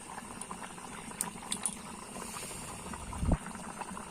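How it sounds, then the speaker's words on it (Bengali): Rohu fish curry with ghanti kochu (taro) simmering in a pot, a soft continuous bubbling with faint popping and one brief louder knock near the end, no voices. "এখন আমি তরকারিটায় আর সামান্য জাল দিয়ে তারপর নামিয়ে নিব।"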